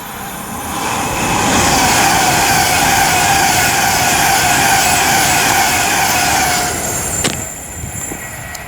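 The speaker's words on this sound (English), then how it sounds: "There's another Pendolino." A Pendolino train passes through Lichfield Trent Valley station, a loud sustained rush and rumble with a high whine that swells in, holds for several seconds and fades with a brief sharp squeal near the end.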